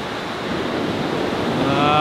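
Ocean surf washing over shallow sand banks as the tide rises, a steady broadband wash of breaking water with wind noise, building slightly louder toward the end, no voices.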